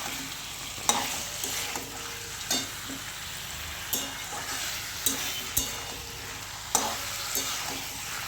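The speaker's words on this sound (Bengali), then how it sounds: "এবার চিকেনটা চিকেনটা আমি হালকা ভেজে নেব এই সাথে পেঁয়াজ আর টমেটোর সাথে" Chicken pieces frying with onion and tomato in a pan for a home-style chicken kosha, a steady loud sizzle broken by periodic scraping stir strokes, with no talking.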